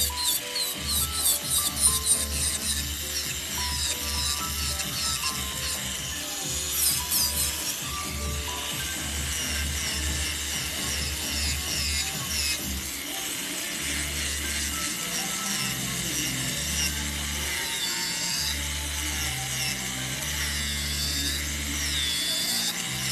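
An electric nail file drill shaping and thinning an acrylic nail during an infill that changes a coffin shape to almond, whirring steadily up close with a constant low motor hum and fine scratchy grinding throughout.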